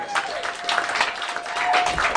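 Comedy-show audience in Tucson applauds a comedian, a dense, continuous burst of clapping heard close and fairly loud for a couple of seconds.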